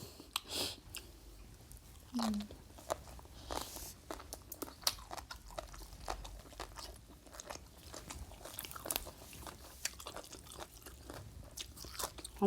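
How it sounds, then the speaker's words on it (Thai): Someone eats a lunch of curry made with fresh wild mushrooms, with quiet close-up chewing: soft wet mouth sounds broken by occasional sharper crunchy bites, irregular and faint. "กินข้าวเที่ยง"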